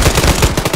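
Rapid gunfire from Arma 3 during a hunting operation: a loud, close burst of repeated shots in quick, even succession with no voices over it.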